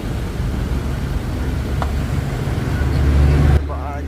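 The engine of a Bajaj CT125 motorcycle with an abnormal running noise runs steadily up close with a low rumbling drone, rising slightly near the end before cutting off abruptly.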